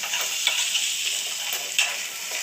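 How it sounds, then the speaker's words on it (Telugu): Potatoes and brinjal fry with onions in oil in a pan, giving a constant bright sizzle with a few soft stirring knocks, close and fairly loud. "వీటన్నిటిని బాగా ఫ్రై చేసుకోవాలి"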